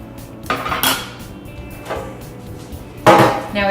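Metal sheet pan lined with parchment being handled in a kitchen, giving a few separate close clatters and scrapes spaced apart.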